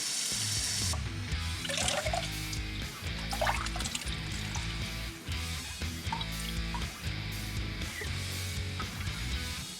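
Wet acoustic foam pieces wrung out by hand over a sink, water pouring and splashing steadily throughout with a running tap, close and fairly loud, no talking.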